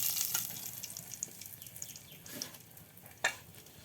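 Chopped onion, green chili and bay leaf sizzle and crackle in very hot oil, a soft steady frying hiss with a few sharper pops and stirring scrapes.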